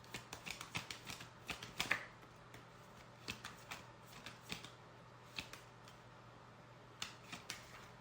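Tarot cards being shuffled by hand, giving faint, close, irregular soft slaps and flicks that recur steadily with brief gaps, alone without talk.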